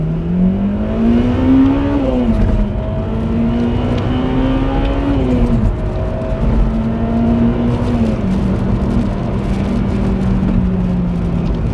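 A Honda Civic Type R EP3 accelerating hard, its engine note climbing steadily through the revs, dropping briefly at shifts, then rising again, loud and close from inside the car.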